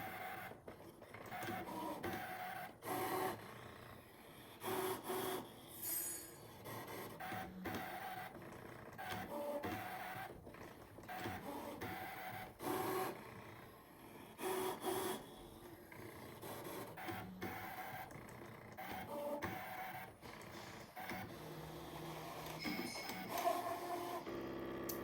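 A Brother ScanNCut machine cuts paper overlays with a steady mechanical whir and rasp. The sound rises and falls in repeated passes, with short pauses between them, and no one speaks.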